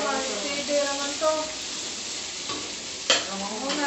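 Food crackles and sizzles steadily in a hot pan, with occasional stirring scrapes and a sharp clatter partway through; voices murmur faintly underneath.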